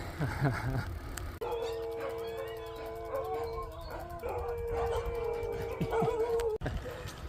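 Several dogs in Thailand howl in long, wavering tones, mixed with yips and barks, fairly close, with a little talk underneath.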